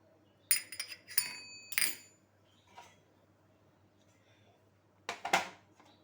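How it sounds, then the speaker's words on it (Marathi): Egg beaten in a bowl with a whisk or utensil for a crispy chicken chilli batter already seasoned with vinegar, red chili powder, salt and soy sauce: three short clattering bursts near the start, a faint tap, then two more bursts near the end. "अंड टाकते आणि हे फेटून घेते"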